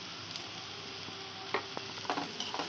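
Spices fry in a pan for butter rice, a soft steady sizzle with a few scattered scrapes and taps of a stirring spoon toward the end, faint and close.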